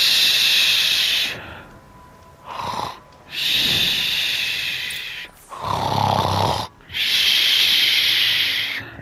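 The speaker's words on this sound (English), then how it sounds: "Aloy snores loud." Aloy snores loudly in Horizon Zero Dawn, with three long, raspy, hissing snores broken by short snorting inhales, close and alone.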